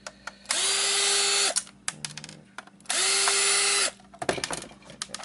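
An electric driver unscrews Torx screws from an original Xbox in two sustained, close, whirring bursts, each ending abruptly, with clicks and handling noises between them and no talk.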